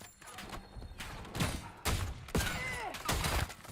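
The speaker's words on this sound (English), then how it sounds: "You want to simulate an explosion" Explosions and gunfire boom from Call of Duty Black Ops 7 in the Blackout battle royale mode, several loud blasts with crackling debris and sharp bangs in quick succession under steady game noise.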